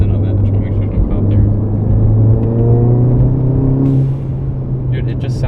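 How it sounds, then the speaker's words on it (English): A 320 hp Volkswagen Golf GTI's exhaust drones low and steady while driving, its pitch rising gradually as it accelerates, with a person talking over it. "it makes this car sound like an old rally car"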